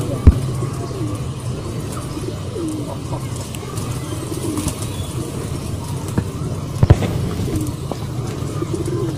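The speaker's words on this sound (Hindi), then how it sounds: "ये देखें कबूतर यहाँ पर माशाल्लाह बहुत ज़्यादा है" Pigeons for sale cooing softly in their lofts, with low repeated coos and a couple of wing flaps or knocks over a constant background murmur.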